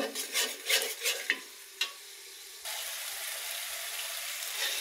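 Garlic, ginger, cumin and other spices are stir-fried in a pan. A few sharp scraping stirs come first, then a steady hiss of frying continues close up with no talking.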